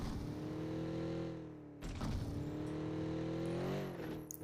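Car engine in PUBG Mobile on the Rondo map, a steady harmonic drone that dips, cuts out briefly and then surges back as the vehicle keeps driving, loud and close with no talk.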